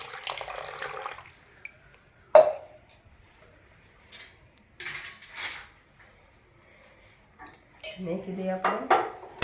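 A metal cooking pot in a Gujarati village kitchen clanks as jaggery and hot water go in for a sweet sheera dish. A few sharp, close metallic knocks and scrapes come between quiet pauses, with soft splashing and handling near the end.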